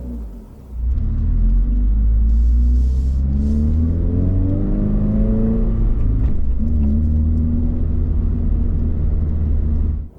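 A Subaru BRZ pulls away in first gear, its engine rumbling steadily and rising in pitch as it accelerates, close and loud with no talk.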